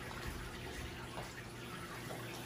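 Water from a garden hose runs into a tank, a faint, steady rushing and splashing that continues unbroken and alone.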